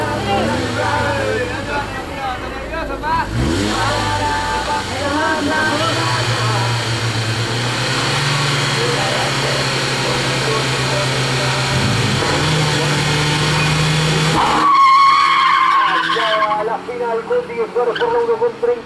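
A drag race car at an amateur street-style racing event, engine roaring and shifting under continuous announcer commentary, cutting off sharply near the end as it brakes.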